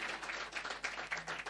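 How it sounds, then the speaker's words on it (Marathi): Light clapping welcoming a guest onto the stage at a mridang and taal dindi tribute gathering, a thin scatter of hands tapping in uneven rhythm, fairly quiet with no voices. "जोरदार टाळ्या त्यांच्या स्वागतासाठी करायच्या आहेत"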